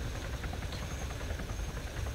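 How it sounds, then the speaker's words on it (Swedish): A helicopter in the video game Arma 3 gives off a steady, dense rotor and engine roar that stays constant and fairly distant throughout, with no voices over it. "Ser du med helikopter där?"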